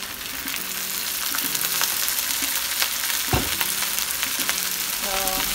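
Sweet onions and green onions frying in oil in a wok for shrimp fried rice, a loud, continuous sizzle with scraping stir strokes and occasional clanks of the utensil against the pan.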